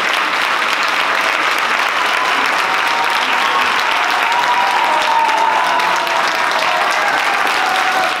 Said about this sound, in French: Merci beaucoup pour ces applaudissements.